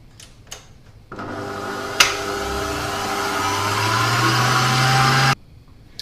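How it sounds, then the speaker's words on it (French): An electric whisk whips muffin batter with oil and yogurt, a steady close whirring drone of about four seconds that rises slightly in pitch, with a click as it starts and stops abruptly. "Allez, on refouette un peu."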